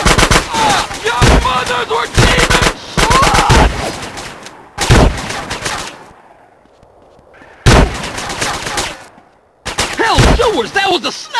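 Gunfire in GTA San Andreas, including sniper shots, heard as loud, close bursts separated by brief quiet gaps, with reverberant tails after the shots and some voices in between.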